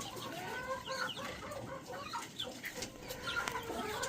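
A flock of chickens clucks continuously, many overlapping calls at close range with short sharp cries, a busy farmyard chorus with no talking.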